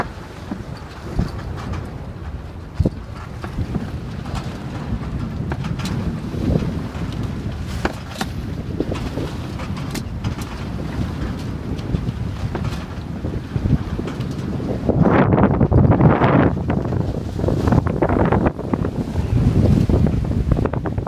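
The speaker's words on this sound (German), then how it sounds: "Wir segeln vor Lelystad bei 16 bis 18 Knoten Wind," A Hirondelle catamaran sails off Lelystad in 16 to 18 knots of wind over old swell: steady wind rush and water slapping the hulls, with gusts and splashing building louder toward the end, no voices.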